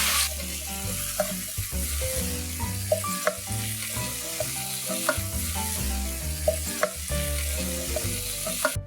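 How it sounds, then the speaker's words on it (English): Mutton with garam masala stirred and frying in a pan, a steady loud sizzle broken by repeated clinks and scrapes of a spoon against the metal, with no talking. "add the mutton into the pan now. Give everything a really good stir and mix."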